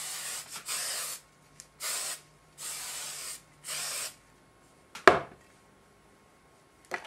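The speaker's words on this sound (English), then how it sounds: "the next step that you want to do is just hairspray all of this hair over here." Hairspray is lightly misted over styled hair in several short hissing bursts of about a second each, separated by quiet gaps, followed by a sharp clatter and faint rustling.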